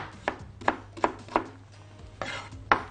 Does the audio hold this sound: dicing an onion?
yes